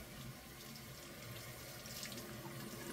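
A bathroom sink tap runs steadily while a washcloth is wetted under it, a close continuous splashing rush with no voices.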